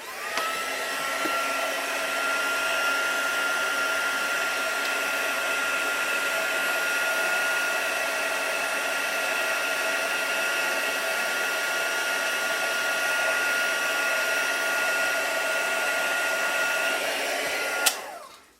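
A heat embossing tool melts white embossing powder on a watercoloured card, giving a loud, steady blowing whir that runs almost unbroken and then cuts off abruptly near the end.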